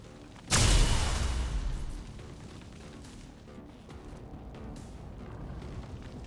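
A single grenade detonation in XCOM 2, a sudden loud boom with a heavy low-end roar that fades over a second or two into quieter rumbling debris and ambient noise.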